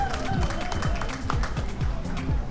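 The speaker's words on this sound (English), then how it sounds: "Let's give a clap for ourselves." Nurses and midwives at a blood donation launch clap for themselves: a dense crowd applause, steady and moderately loud, with voices mixed in.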